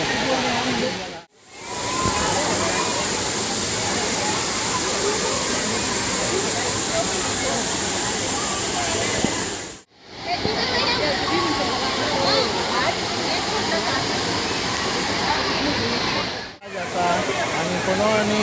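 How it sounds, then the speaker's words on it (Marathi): Savdav waterfall near Kankavli roars as a loud, continuous broadband rush close by, broken by two brief cuts, with the crowd of visitors faintly mixed in. "तुमका जवळ जाऊन पण दाखवले तुमका धबधबा"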